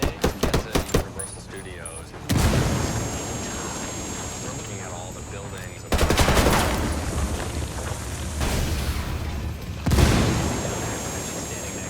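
Grenade blasts and gunfire from the video game Ghost Recon, with loud bursts of explosive noise around 2, 6 and 10 seconds, each followed by a sustained roar and crackle, and clattering shots early on.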